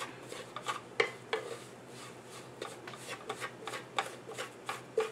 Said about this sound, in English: So I am just going to saute it nicely.